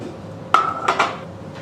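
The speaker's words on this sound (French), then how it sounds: "Tu viens disposer ta viande au fond." Meat set into a small terracotta dish: two or three close, sharp ceramic clinks in quick succession over a quiet kitchen background.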